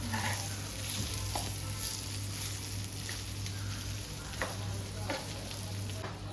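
Kingfish pieces fry in a pan and are flipped, producing a faint, steady sizzling hiss with occasional soft taps and scrapes, no speech.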